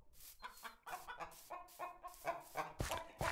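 Chickens cluck in the video game Minecraft, a quick run of short, choppy clucks one after another, fairly faint and with no one talking over them.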